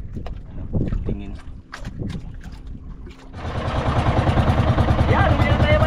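A yacht pulls up alongside a small boat at sea, its engine rumbling into a loud, steady drone with water wash and wind noise that swell and hold near the end.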